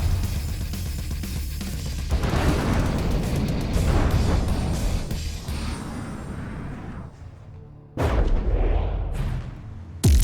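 Bombs exploding during a strategy video game battle: heavy rumbling booms and dense blasts roll continuously, loud and bass-heavy, fading briefly before another deep explosion bursts in near the end.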